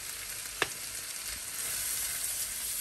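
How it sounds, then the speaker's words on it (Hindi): Tomato masala with turmeric and spices fries in a pan for chicken malai tikka masala, making a steady close sizzle with a brief stirring knock partway through and no voices. "तो आप सभी मसाले शामिल करने के बाद इसे अच्छी तरह से भुनेंगे ताकि ये जितने भी टमाटर हैं ये सारे सॉफ्ट हो जाएं"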